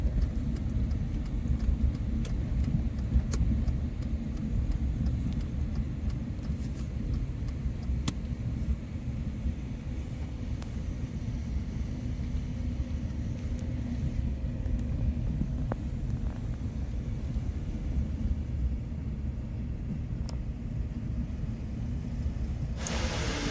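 A Tata Nano LX driving on an expressway in Maharashtra, heard from inside as a continuous low engine and road rumble with steady tyre noise, constant and moderately loud with no speech.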